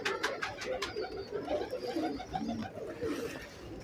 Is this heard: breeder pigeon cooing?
yes